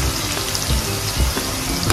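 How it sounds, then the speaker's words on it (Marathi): Garlic sizzles and fries in oil in a pan on a low flame, a steady, dense crackle with faint stirring, close and continuous. "लसूण घालूया, लसूण थोडं परतवून घेऊया।"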